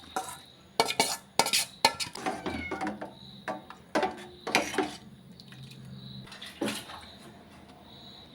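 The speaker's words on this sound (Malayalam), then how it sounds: "ശർക്കര പാനിയിലേക്ക് അട വേവിച്ചത് ഇട്ട് കൊടുക്കാം" Cooked rice flakes (ada) tipped into jaggery syrup and stirred for ada pradhaman, giving close, irregular clinks and scrapes of a spoon against a metal pot in uneven bursts with short pauses.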